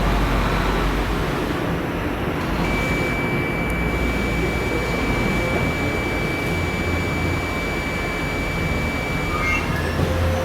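A multimeter continuity beep sounds while amplifier MOSFETs in a dead Audiobank car power amplifier are probed, a thin steady tone lasting several seconds over a loud, constant hiss of background noise.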